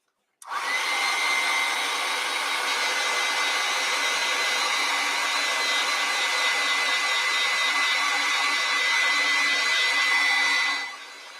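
A hair dryer switches on abruptly and blows at a steady, loud whirring pitch for about ten seconds while drying watercolor paint, then cuts off.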